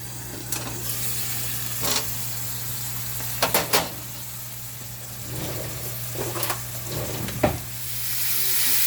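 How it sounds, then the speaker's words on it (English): Steady sizzling and frying of ground beef in a pan with a constant low hum beneath, broken by a few sharp scraping clinks as the meat is stirred and crumbled. "Y'all hear it sizzling?"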